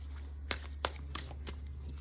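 Tarot cards shuffled by hand in a quiet room, a few crisp riffling snaps spaced apart over a low steady hum.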